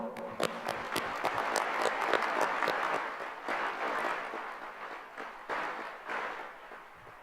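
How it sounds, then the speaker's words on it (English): A large graduation crowd applauds the high school staff and faculty, sustained, dense clapping with crisp individual claps that swells and then gradually tapers off. "Let's give a round of applause for the Sauk Rapids Rice staff and faculty."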